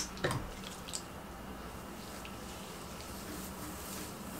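Wet, low-porosity curly hair squelches softly as water and styling product are worked through it, with a couple of brief squishy bursts near the start over a steady wet hiss, close and fairly quiet with no talking.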